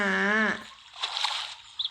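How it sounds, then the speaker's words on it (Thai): Small splash of a fish jumping in the farming video game Harvest Town, a brief watery slosh and trickle after a voiced tone, followed by a couple of tiny dribbling plinks, light and close. "ก็เห็นอยู่ว่าปลา มันกระโดดย่อมย่อมย่อมย่อมอยู่นะ"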